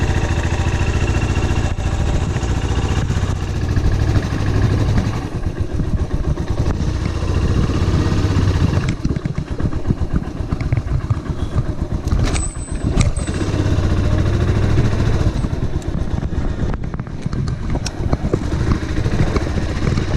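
Suzuki S40 motorcycle, recently ridden and slightly warm, runs steadily at close range, a loud continuous engine rumble with clattery mechanical texture and no talk.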